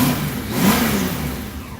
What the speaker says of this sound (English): Throttle response is clean.